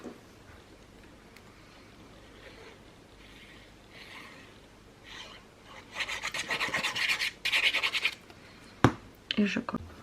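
Scissors cut a few millimetres off a sheet of paper for a Stamperia lavender album: faint rubbing at first, then a run of close, crisp snips and scratchy strokes. Someone speaks quietly in places.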